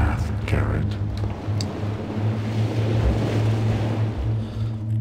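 Rushing water inside the water mage tower in Thief Gold: a loud, continuous low roar and surge with a deep rumbling undertone that swells and eases throughout.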